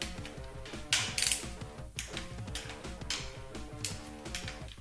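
A torque wrench ratchets cam retainer bolts on a truck engine being rebuilt and supercharged, close and clear, a series of quick clicking ratchet strokes with short pauses between pulls.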